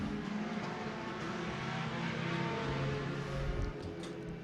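Race cars roar around the oval at Penn Can Speedway as the leader works through heavy lap traffic, a dense continuous engine drone with cars sweeping past, loud and steady throughout.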